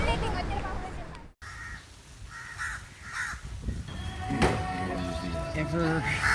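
Crows cawing around a catamaran on a boat tour off Negombo, Sri Lanka, with a string of harsh repeated caws at moderate distance over wind and water noise, and people talking in the background.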